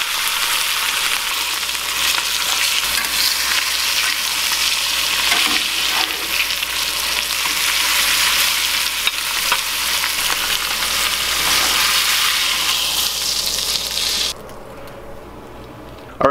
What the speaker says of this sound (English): we're just browning the outside of the steak, trying to get it all finished